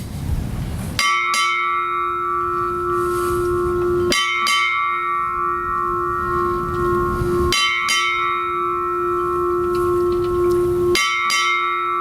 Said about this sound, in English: Commodore Isaksen, will you sound 8 bells?